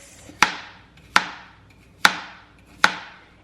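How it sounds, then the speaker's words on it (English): A knife chops cucumbers into thick slices for a salad, striking the cutting board four times in a slow, even rhythm, crisp and close with short decays. "now I'm just going to be chopping this up in pretty thick"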